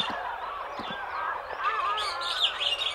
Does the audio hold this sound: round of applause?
no